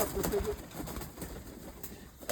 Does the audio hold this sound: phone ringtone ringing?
no